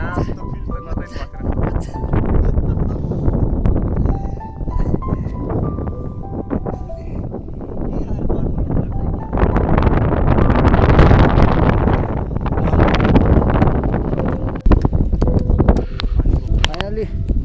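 Strong wind buffets the microphone with a loud low rumble on an open hilltop near a view tower at Devchuli, while people talk close by throughout.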